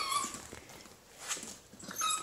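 A beagle puppy whines softly in thin, high-pitched whimpers, a few faint cries rising and falling over a couple of seconds.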